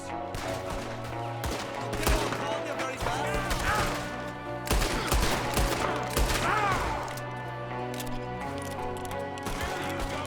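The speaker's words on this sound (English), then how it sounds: "There's another one shooting from the window." Gunfire comes from a window during a Red Dead Redemption 2 firefight. Repeated cracking shots and crashing impacts sound over a musical score, and several bursts stand out above the busy mix.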